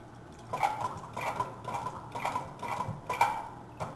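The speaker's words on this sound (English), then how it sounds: "we'll cut it in half, and we'll use the citrus press to press out the juice" A halved honey tangerine squeezed in a handheld citrus press, giving a few quiet squeaks, clicks and wet squelches in a loose rhythm of repeated presses, close up, with no speech.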